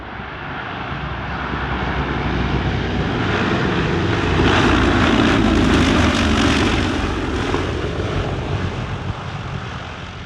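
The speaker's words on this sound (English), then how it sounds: "Following the retirement of Breitling's Switzerland-based Super Constellation, this is now the only such example still airworthy." A Lockheed Super Constellation propeller airliner passes at an airshow, its piston engines droning in a broad roar that swells toward the middle as it flies by and then slowly fades.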